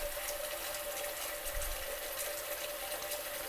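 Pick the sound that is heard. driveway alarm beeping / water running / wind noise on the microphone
water running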